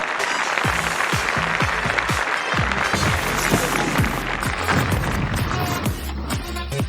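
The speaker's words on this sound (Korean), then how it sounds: "모두 큰 박수로 맞아주시기 바랍니다" Applause from a crowd, steady clapping over roughly seven seconds, with scattered low thumps and voices mixed into the background of a large room.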